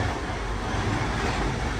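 An express train rushes past and overtakes a moving passenger train, with a loud, continuous roar and rattle filling the whole stretch close by.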